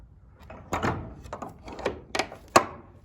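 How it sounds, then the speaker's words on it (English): A metal latch on a horse stall door in a barn is lifted and slid across, giving a few separate clanks and knocks close by, ending with a sharper metallic thunk. "you just lift up the handle, slide it over, and then there you go"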